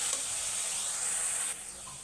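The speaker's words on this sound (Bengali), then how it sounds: "আমি পেঁয়াজের আর আদার কাঁচা স্মেলটা যাওয়া পর্যন্ত একটু তেলে ভেজে নিচ্ছি" Onion and ginger-garlic paste fry in hot oil for a haliim, giving a steady bright sizzle up close, with the hiss dropping slightly near the end as the mix is stirred.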